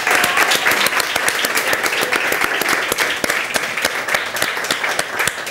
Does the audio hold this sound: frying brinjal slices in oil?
no